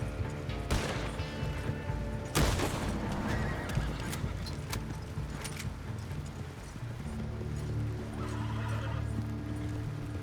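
In a video game, a horse whinnies and its hooves clip-clop amid background game ambience. The neighs rise clearly over the scene, with a few sharp cracks early on and a steady hum beneath.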